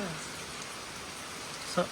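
Steady heavy rain pours down in a continuous even hiss, close and unbroken, with a brief sharp tap near the end.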